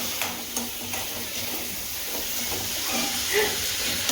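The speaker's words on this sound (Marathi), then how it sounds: "आता हा कांदा भाजते मी." Onion fries in a pan with a continuous hissing sizzle, close and steady, with a few soft stirring clicks and no talking.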